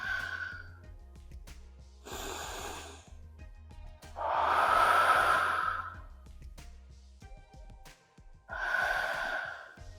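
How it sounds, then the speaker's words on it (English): Slow, deep breathing during a gentle floor yoga stretch: several long sighing exhales and audible inhales spaced a few seconds apart, close and fairly loud, alone without speech. "Breathing."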